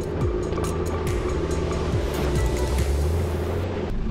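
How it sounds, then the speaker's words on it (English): Fast-flowing Ashburton River in high flood during a river run event, a loud continuous rush of water with a deep rumble, close and alone with no voices. "as the water was really flowing"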